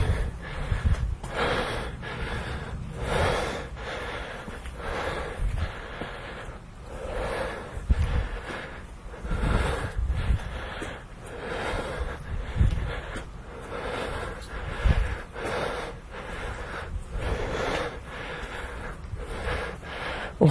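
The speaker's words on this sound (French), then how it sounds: "Reprise de respiration." Heavy, rhythmic breathing from a person recovering after a set of forward lunges during a short home workout, steady panting breaths close to the microphone with no talk.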